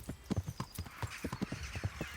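Steady clip-clop of horse hooves in the video game Kingdom Come: Deliverance, about a dozen evenly spaced hoofbeats at a walking pace, close and moderately loud, with no voices.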